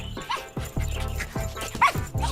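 Cartoon dog in an animated series gives a string of short yips and barks with whimpering cries, fairly close and lively, over a backing music bed.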